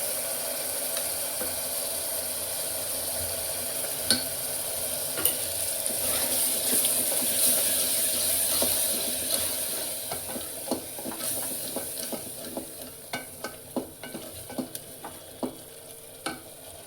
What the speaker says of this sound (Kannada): ಹಾಗೆಯೇ ನಾನಿಲ್ಲಿ ಗ್ರೈಂಡ್ ಮಾಡಿಟ್ಟಿರ್ತಕ್ಕಂಥ ಪುದೀನ ಮತ್ತು ಚಿಲ್ಲಿ ಮತ್ತು ಕೊತ್ತಂಬರಿನ ಆ್ಯಡ್ ಮಾಡ್ಕೊತಾ ಇದ್ದೀನಿ